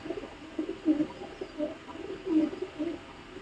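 Oman Teddy high flyer pigeons coo softly and repeatedly nearby, a series of low, throaty murmurs in irregular bursts over a quiet room background, with no talking.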